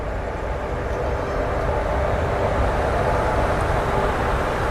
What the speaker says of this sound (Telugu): Beautiful WIP4 locomotive.